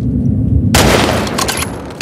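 A loud gunshot in The Last of Us Part II bursts in after a low rumbling lead-in, followed by a dense, ringing wash of gunfire and debris that stays heavy to the end.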